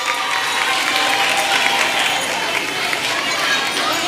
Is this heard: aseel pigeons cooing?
no